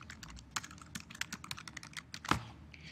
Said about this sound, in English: And I could start typing in text right here.